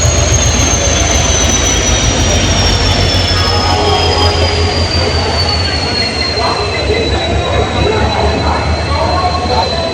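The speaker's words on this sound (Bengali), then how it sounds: "আর এই আমাদের ট্রেন সবে প্ল্যাটফর্মে ঢুকছে" A passenger train running from Howrah to Puri rolls into a crowded station platform with a loud, steady rumble and a long high wheel squeal that slowly falls in pitch. The train sound stays continuous and close throughout.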